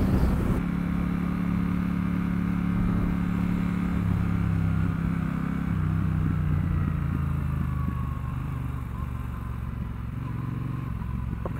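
A Triumph Bonneville Bobber 1200 motorcycle engine pulls hard through the gears on the road, a loud continuous drone whose pitch climbs and drops with each shift, close-up with wind noise.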